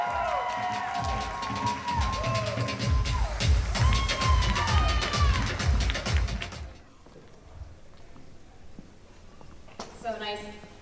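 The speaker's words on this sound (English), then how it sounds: "Round of applause, ladies and gentlemen." An audience cheers and shouts loudly with whoops and excited voices, then the noise drops to a softer murmur before a brief burst of high-pitched cries near the end.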